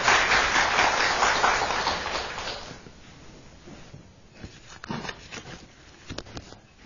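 An audience in a lecture hall applauds to welcome a guest lecturer. The full, steady clapping lasts nearly three seconds, then thins out to a few scattered claps and rustling movements.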